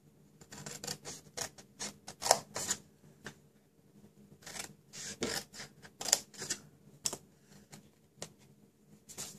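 Scissors snipping through paper card for a stationery gift box, a steady run of short crisp cuts and rustles close to the microphone, with no talking.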